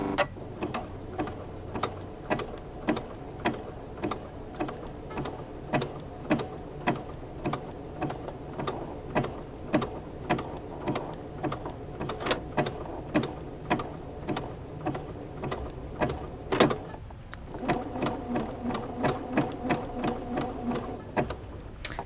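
A sewing machine stitches parallel lines of conductive thread, making a steady, rapid, rhythmic clatter of needle strokes up close. It pauses briefly near the end and then resumes with no talking.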